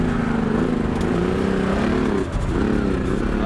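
A Can-Am Maverick Turbo off-road race buggy in a desert race runs close and loud, a steady droning engine with slight pitch wavers and one brief dip, no talk.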